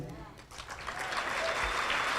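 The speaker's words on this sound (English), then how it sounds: "keep that applause going" Audience at a Making Strides of Sarasota-Manatee kickoff reception claps steadily, the applause building from a soft start to a full, sustained patter, with faint speech underneath.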